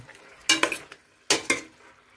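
Stirring chicken tinola in a pot, two close pairs of metal spoon scrapes and clinks against the pot, loud and distinct with quiet gaps between.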